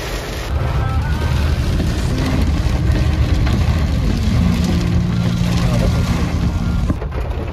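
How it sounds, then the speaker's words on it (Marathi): Heavy monsoon rain in Pune heard from a vehicle on the road, a loud, unbroken roar of water and road noise throughout, with a low engine hum underneath and a sharp break near the end. "खतरनाक पाऊस आहे."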